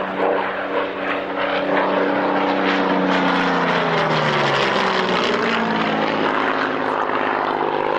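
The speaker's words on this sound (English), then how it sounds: "this is the Hurricane from the Battle of Britain Memorial Flight" A Hawker Hurricane propeller fighter of the Battle of Britain Memorial Flight passes at an airshow at Kemble Airfield, its loud, steady engine drone shifting in pitch as it flies by overhead.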